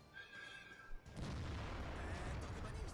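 A heavy SU-152 tank gun from a tank video game fires with a sudden loud boom about a second in, followed by a sustained rumbling roar that holds steady to the end.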